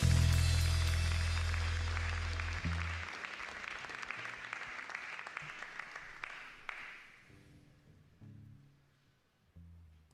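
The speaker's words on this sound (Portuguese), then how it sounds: "Pode aplaudir o Senhor" A church congregation applauds loudly during a worship service, the dense clapping starting over low music and gradually thinning and fading into scattered claps and quiet.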